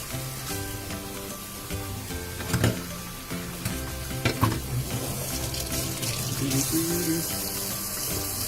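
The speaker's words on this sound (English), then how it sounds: "So let's wash our hands." Tap water running steadily into a kitchen sink while hands are washed, a continuous splashing hiss with brief bursts of louder splashing and small clatters, close by.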